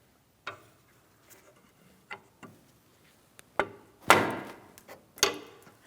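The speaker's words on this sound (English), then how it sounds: "I'm just using a hammer and a long pry bar." Several sharp metallic taps from a hammer on a steering rack bellow clamp of a 2007-2014 Ford Edge, spaced irregularly with short pauses, the later strikes louder and ringing slightly; no talking.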